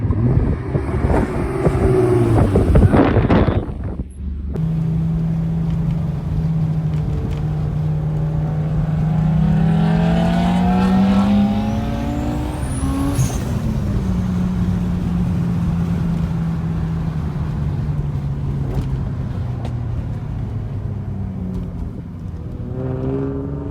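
A turbocharged BMW 325i E36 out for a drive, its engine droning steadily with pitch rising and falling through acceleration, with wind rushing past the microphone and no voices.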